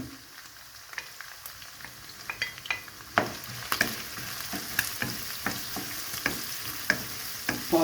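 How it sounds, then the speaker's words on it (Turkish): Onions added to browned meat fry and sizzle in a pan for a winter aubergine dish, a steady crackle with louder pops and stirring scrapes building after a few seconds, fairly quiet and without voices. "hemen soğanımızı ilave ediyoruz etimize"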